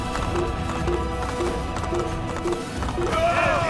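A horse gallops in the game Assassin's Creed, its hooves clopping in a steady rhythm of evenly spaced beats over background game ambience, loud and close.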